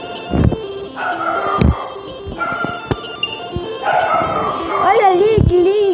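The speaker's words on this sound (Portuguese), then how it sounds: "Gente, meus cachorros aqui tá latindo." Pet dogs bark, yip and whimper in short bursts close by, with a person speaking over them.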